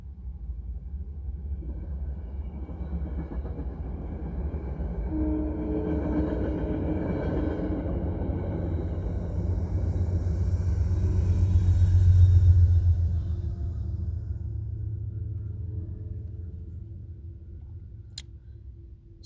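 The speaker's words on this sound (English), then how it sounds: "Oh, train is coming. It's going to get loud." A low, steady rumble builds over several seconds, peaks, then slowly fades, like a train rolling past nearby with no talking.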